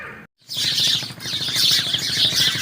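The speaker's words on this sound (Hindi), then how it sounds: "चिड़ियों की चहचहाने की आवाज़ इस दरख्त के अंदर से आ रही है।" After a brief silence, a dense chorus of many small birds chirps and twitters continuously from inside a nearby bamboo tree, busy and lively.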